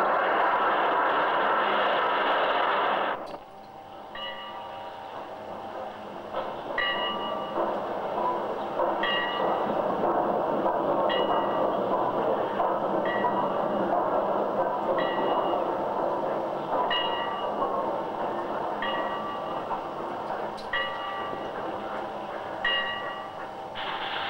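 Steam-era style train on the Somerset and Dorset line at Evercreech Junction arriving and then departing, a steady rolling rumble with repeated rhythmic wheel clicks over rail joints, fairly close and continuous, with no talk.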